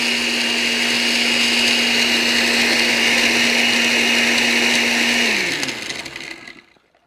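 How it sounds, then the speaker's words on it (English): A kitchen blender whirs loudly and steadily, blending guava colada ingredients with crushed ice for several seconds before winding down and stopping. "Cover it, pulse it in the blender, and high for like 30 seconds."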